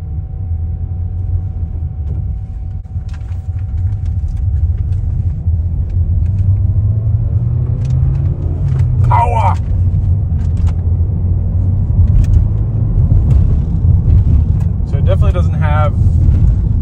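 Seat Leon FR driving on a road in Spain, a steady low engine and tire rumble heard from inside the cabin with a light clutch and manual shifting, while people talk throughout.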